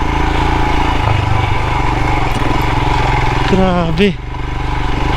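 Himalayan motorcycle engine riding off-road at a river valley camp, a loud steady drone throughout with a brief rising rev near the end, while someone speaks a short exclamation over it.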